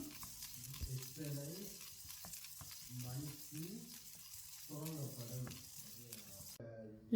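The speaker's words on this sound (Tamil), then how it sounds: "அடுத்ததாக இந்த மிளகையும் போட்டு வறுத்து கொள்ளுங்க." Black peppercorns dry-roasting in a pan for sambar powder, with a soft rattling scrape of stirring and faint crackle, while someone talks over it at close range.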